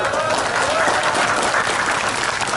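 An audience at a preacher's sermon breaks into loud, dense applause, continuous and close, with a faint murmur of the crowd beneath.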